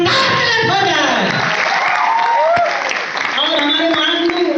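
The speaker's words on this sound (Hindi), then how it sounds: "एक शानदार तालियां हो जाए" A crowd at a training event in Nainital claps loudly and cheers, with shouted voices and whoops mixed into the sustained applause.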